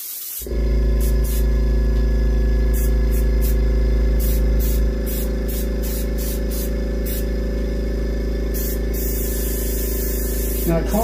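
White paint is sprayed in a steady, close, continuous hiss onto a reproduction warmouth fish, with a few brief ticks over it and no talking.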